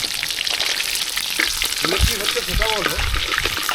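Fresh pond fish sputter and crackle as they fry in hot oil, a dense close sizzle with a few stirring knocks and a brief murmur of voices in the background.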